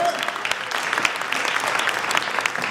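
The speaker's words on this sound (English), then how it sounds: "That's worth an applause" Audience applause at an awards event in Trenton, New Jersey, a steady dense patter of clapping from a crowd, fairly close and sustained through the short stretch with no talk over it.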